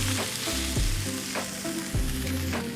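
Flank steak sears loudly in a hot pan as it is turned, a dense crackling sizzle with a couple of soft thuds and scrapes as the meat is moved.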